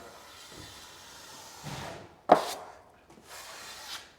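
A drywall knife scrapes and smooths joint compound along a taped drywall seam in a few soft, separate strokes, with one sharper scrape near the middle; close and fairly quiet.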